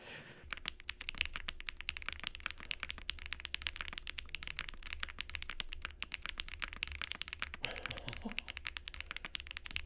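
Typing on a Wuque Studio Freya mechanical keyboard with PC inner plate, aluminum exterior plate, HMX and swag keycaps and milky white switches: a steady, close run of crisp, rapid keystroke clacks with no talking.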